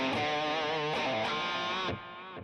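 Distorted electric guitar from a Fractal FM9 Angry Charlie amp model in a JCM 800 style crunch, with delay, rings out as sustained chords with a couple of accents, then cuts off, leaving a faint delay tail.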